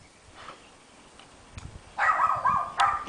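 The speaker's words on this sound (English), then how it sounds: "we've got Cleveland in the cottage who's barking up a storm" A dog barks in a short burst of sharp, fairly loud yaps at a cottage during a Fourth of July gathering in Sonoma, after a quiet start, with faint background noise.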